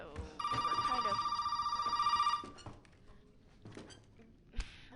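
A telephone in Resident Evil Biohazard rings with a steady electronic trill lasting about two seconds, then cuts off, followed by quiet footsteps, faint rustling and a sharp thump near the end.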